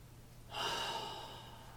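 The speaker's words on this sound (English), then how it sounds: "So a few more breaths." A single deep breath drawn in during a breathing exercise, a soft airy rush rising suddenly and then slowly fading, close and alone.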